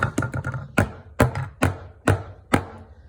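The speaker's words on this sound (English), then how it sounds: "This is a drum pad." Dull, thuddy taps on a rubber drum practice pad, a quick cluster followed by evenly spaced single hits, close up with no voices.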